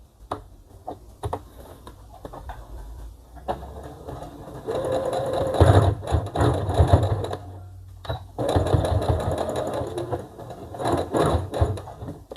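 Sewing machine stitching a side seam on a child's jumpsuit: rapid mechanical chattering in several bursts, starting with a few light clicks and building to steady runs of stitching, close by and with no voices.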